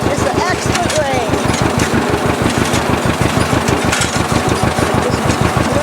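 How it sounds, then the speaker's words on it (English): A John Deere tractor pulling a 640 hay rake through Bermuda hay runs with a steady, rhythmic engine chug and mechanical clatter, loud and close throughout. "Just riding on the John Deere tractor. Just pulling this rake."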